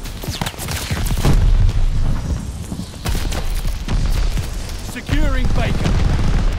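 A grenade explodes in a military shooter video game, with heavy booms and bursts of gunfire over a busy battlefield mix, loud and close, while in-game voices shout callouts throughout.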